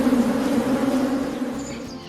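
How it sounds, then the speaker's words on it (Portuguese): Bees buzz around flowering acacia trees on a farm with hundreds of hives, a steady and fairly loud droning hum that goes on throughout with no voices. "Com a acácia apareceram abelhas,"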